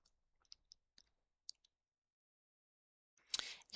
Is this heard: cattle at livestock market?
no